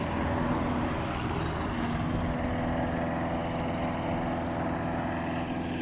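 A lawn mower engine runs steadily and loudly throughout, a constant droning hum without pauses.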